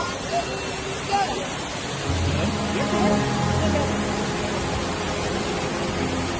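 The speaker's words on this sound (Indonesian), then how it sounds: "Ini kita sudah berada di dasar air terjun Tumpak Sewu" Tumpak Sewu waterfall seen from the base of the falls: a steady, broad roar of falling water fills the whole clip, with people talking faintly over it.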